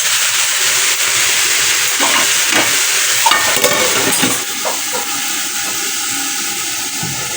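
Okra (bhindi) frying in a pan on a gas stove gives off a steady, close hiss. A few soft clinks and scrapes come through mid-way, with no talking.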